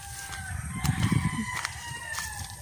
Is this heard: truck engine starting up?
no